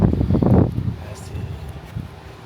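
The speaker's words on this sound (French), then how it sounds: "après sur la côte, ouais, il y a beaucoup de vent" Steady coastal wind at Pointe des Châteaux, Guadeloupe, buffets the microphone with low rumbling gusts, strongest at the start and easing into a softer, constant roar.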